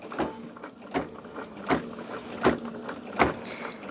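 An embroidery machine stitching a quilt block in the hoop, giving a steady mechanical whir with regular swelling pulses roughly every three-quarters of a second, close and moderately loud with no talking.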